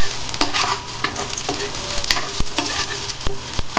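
Garlic sizzling in hot oil in a pan for pork adobo, a steady close frying hiss broken by stirring scrapes and sharp clicks of a utensil against the pan, with no talk.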